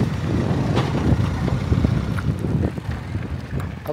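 Strong wind buffeting the microphone at a working dock on Phu Quy island, a continuous loud rumbling roar with gusty surges and faint background clatter.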